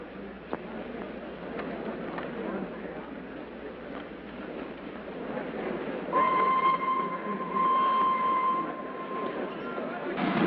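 A 1930s passenger train rumbles steadily along its rails, and a sustained horn or whistle sounds partway through. People talk over the noise.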